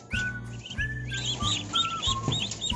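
A flock of ducklings peeps in a pen, thin high chirps repeating in quick overlapping bursts, close by, over a low intermittent rumbling hum.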